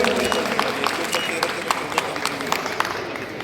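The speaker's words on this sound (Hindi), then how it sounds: "और आप सभी तालियां बजाते रहे।" Audience applause at the inauguration of Bihar's first solar-powered rice mill in Sigriyawan, Patna, a dense wash of many hands clapping steadily, with a crowd murmur and voices mixed in.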